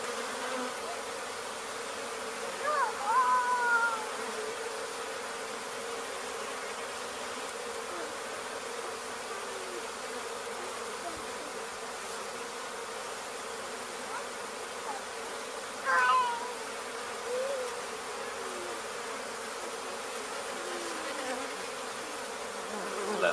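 A swarm of honey bees with three queens, removed in Weslaco, Texas, drones in a steady, close buzzing hum throughout, with a few brief higher whines and small bumps rising above the constant drone.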